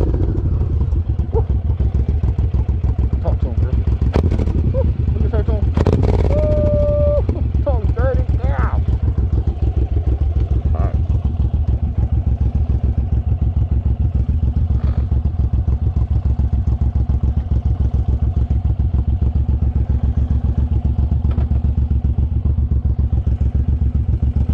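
A Suzuki M109R motorcycle rumbles steadily along a road with a constant, loud engine drone and wind buffeting, someone speaking briefly under a face shield early on.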